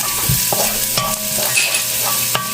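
Ginger sautéing in a hot pan, a close, dense sizzle with repeated scraping stirs at a steady rhythm, no voices over it.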